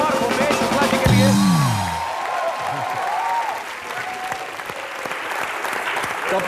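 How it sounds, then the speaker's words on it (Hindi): Studio audience at a Hindi television comedy show bursts into loud applause and cheering, opening over a musical sting and a voice, then carrying on as sustained clapping while talk resumes near the end. "एक बार जोरदार तालियां हो जाए मिस्टर अभिषेक बच्चन, असित और भूपेश शुक्ला जी"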